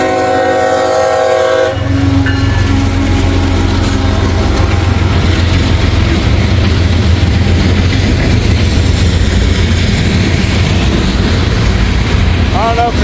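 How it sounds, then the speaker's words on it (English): Freight train M561 with a heritage unit as the DPU rolls past close by, its horn sounding loudly at first, then a heavy steady rumble and rail clatter continue throughout. "I got note that M561 was coming down the line and has a Heritage unit as the DPU"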